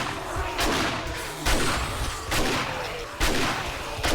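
Automatic shotgun fired in the zombie survival game 7 Days to Die, with heavy booming blasts spaced roughly a second apart in a steady, slowish rhythm, loud and close with no talk over them.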